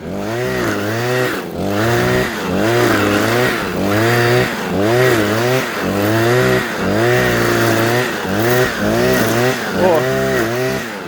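A petrol brush cutter clears snow and an icy crust, its engine loud and close, revving in steady repeated surges of about a second each with no pauses.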